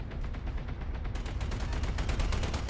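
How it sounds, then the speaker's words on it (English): Dense, continuous barrage of AC-10 autocannon rounds firing in BattleTech, loud and rapid with overlapping impacts and no pauses. "That's a lot of AC-10 rounds"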